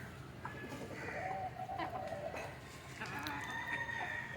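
A country chicken clucks and crows at a moderate distance, several drawn-out calls repeating over light background noise.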